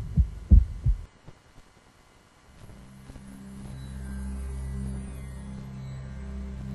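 A radio jingle's heartbeat effect gives a few loud, deep thumps up front, then trails off into a low sustained hum.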